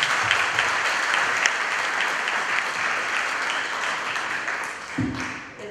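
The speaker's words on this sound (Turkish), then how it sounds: "Onlara büyük bir alkış." Audience applause closes a panel session at an open science conference, a steady wash of many hands clapping at moderate distance, with a brief low thump near the end as it fades.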